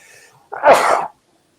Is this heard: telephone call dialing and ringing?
no